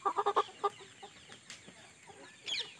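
Chickens on a low-budget poultry farm give a quick burst of loud, close clucks, then scattered softer calls and a brief higher squawk near the end.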